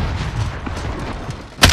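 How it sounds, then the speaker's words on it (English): A stun grenade goes off in a first-person shooter match, a sharp broadband burst near the end of the clip after quieter game ambience. "Stun grenade out."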